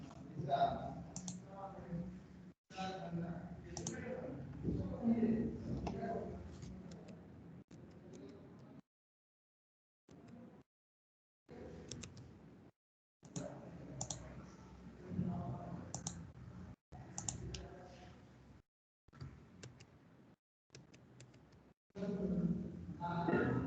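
Typing on a computer keyboard with mouse clicks, a light patter of key taps in short runs broken by silent gaps, mixed in with a person talking.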